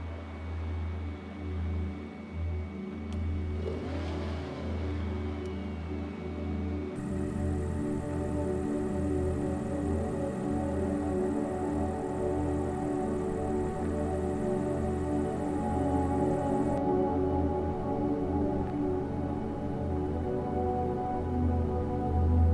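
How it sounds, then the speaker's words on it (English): Airliner engines spool up in Microsoft Flight Simulator 2020, a steady deepening hum and whine that builds and layers into a continuous drone with no speech. "we'll get both the engines going"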